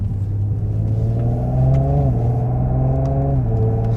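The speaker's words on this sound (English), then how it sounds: "Changing up through the gears," An Audi S4 with upgraded transmission mounts accelerates steadily, its engine drone climbing, dipping at a shift and climbing again as it changes up through the gears, heard close and alone.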